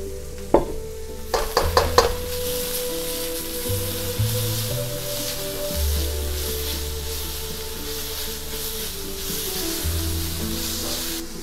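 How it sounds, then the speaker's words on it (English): Shallots and a seasoning mix frying in a pan, opening with a few clattering stirs and knocks, then a loud, continuous sizzle over a low background hum. "Let it cook a little bit until it's the shallots are a little translucent, and we will go ahead and add"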